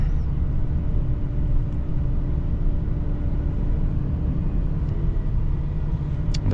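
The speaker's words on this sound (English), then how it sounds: "That's our LRT, I'm pretty sure. Light Transit Rail." Three-car electric light rail train rolls past with a steady low rumble and faint high rail squeals near the end, continuous and moderately close, no speech.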